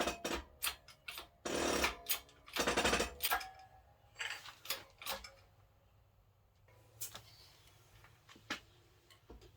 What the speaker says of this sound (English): I'm pressing on the dust shield right onto the bearing, which should press it right onto the shaft.